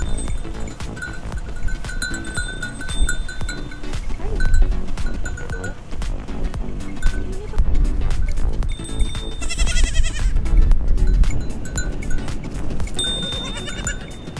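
Baby goats bleat on a farm stop, with several calls standing out over a loud, rumbling outdoor background and wind-like noise throughout.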